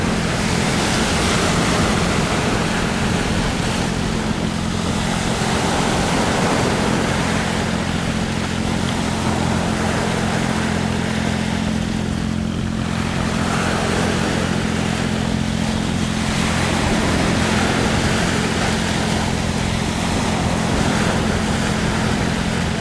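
Large sea waves churn and wash steadily around an iron boat heading out to sea, with a low engine hum droning underneath the loud, continuous surf for the whole stretch.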